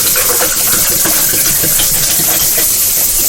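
Cold water runs from a kitchen tap in a steady, loud, close gush that hisses without a break.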